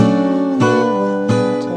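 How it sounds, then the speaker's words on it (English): A guitar played clumsily, a few strummed chords ringing loudly and close, with two abrupt chord changes producing jarring, uneven transitions over under two seconds. "Why does playing guitar feel so good, but can sound so bad, or at least sound like this?"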